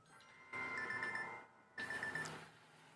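A telephone rings twice in regular bursts, each about a second long with a warbling electronic tone, fairly quiet against a low background hum.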